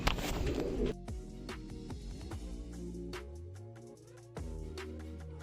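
Pigeons on a rooftop loft give low, soft cooing calls in a steady quiet background, with a brief burst of rustling or flapping near the start.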